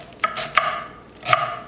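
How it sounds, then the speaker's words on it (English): Knife chopping a rolled-up bundle of cilantro on a cutting board, three crisp close chops spaced unevenly, alone without talk. "Roll it up so that it's easy to chop."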